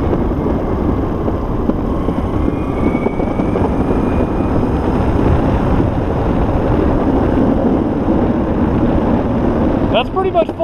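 An Enertion Raptor electric skateboard rides at full throttle over smooth pavement, carrying a loud, constant roar of wheels and rushing wind. A brief rattling clatter comes near the end.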